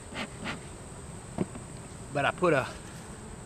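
Honey bees buzz steadily around an opened, strong summertime hive during an inspection, a faint continuous drone under brief nearby talk and a few handling knocks.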